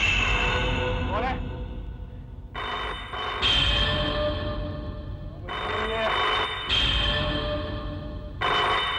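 A telephone rings in repeated bursts of bright, insistent ringing separated by short pauses, fairly loud and close, with no one speaking.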